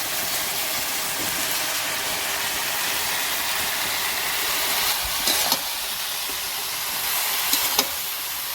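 Spice paste and pumpkin greens stir-fry in a pan with a splash of water, giving a steady close sizzle and hiss under occasional scrapes and clinks of a spatula, with no talking.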